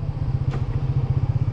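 Manual motorcycle engine idling close by, a steady low chugging pulse with a faint clatter, running alone without voices.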